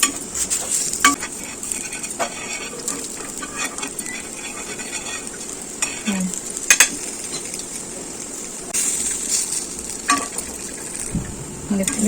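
Chandrakantha sweets fry in oil in a pan, giving a steady soft sizzle broken by repeated scraping and clinking as a utensil stirs and turns them, close and moderately loud, with no voices.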